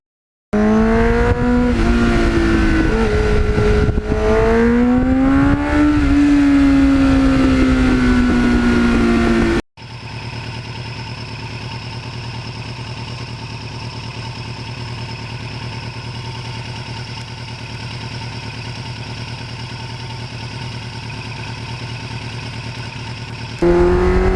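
A 1989 Kawasaki Ninja GPX750R revs hard, its engine pitch climbing and dipping in loud sweeps, then cuts abruptly to a steady, lower, buzzing drone that runs evenly to the end with no talk.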